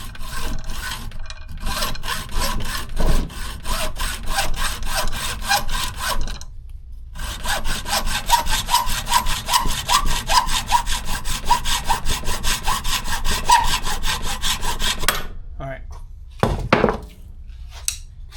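An aluminum oil cooler line clamped in a vise is cut with a hand saw in steady, rapid back-and-forth strokes. The sawing is close and loud, with brief pauses, and ends with a few clanks and handling sounds.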